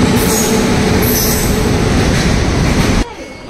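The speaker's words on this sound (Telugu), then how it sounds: "ఏదో ట్రైన్ వస్తుంది." A train pulls into a railway platform with loud, continuous rail noise and wheel squeal that dominates for about three seconds, then drops away sharply to quieter ambience.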